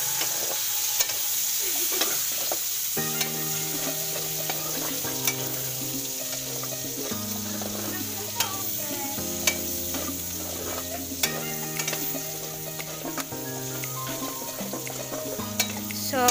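Garlic sautés in a pan for a peanut and mung bean dish with bitter melon leaves, a steady sizzle with light stirring clatter, while melodic background music plays over it throughout.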